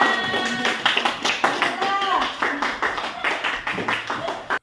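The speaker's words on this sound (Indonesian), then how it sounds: "Tepuk tangan buat kita semua." A classroom group claps in sharp, uneven bursts of hand strikes that rise and fall, and a voice speaks over the clapping partway through.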